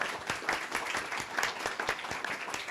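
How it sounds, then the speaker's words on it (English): Audience at a WWF Asia-Pacific panel event applauding: a short burst of steady, dense clapping from many hands, moderately close and alone without speech. "please, a round of applause for this amazing panel"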